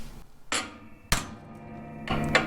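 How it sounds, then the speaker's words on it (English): Three sharp metallic hammer blows drive a pin into a quick hitch bushing on a Terra King material collection system, each strike ringing briefly in a quiet space. "You hammer that down till it's even"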